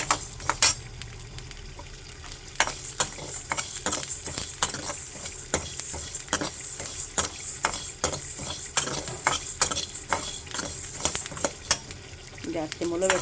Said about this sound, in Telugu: వేయించుతున్నాను. ధనియాలు, జీలకర్ర, మెంతులు, ఇంకా వాము.